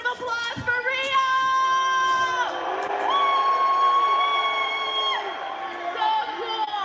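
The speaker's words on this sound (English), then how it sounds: "let's give another round of applause for Rio!" Crowd at a live wrestling event cheering, whooping and shouting loudly throughout, a dense sustained roar of many voices with rising yells and some applause.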